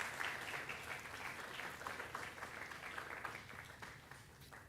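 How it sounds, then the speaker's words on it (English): Audience applause after a talk at a Django programming conference, a faint, steady patter of many hands clapping for several seconds that slowly thins toward the end. "a round of applause"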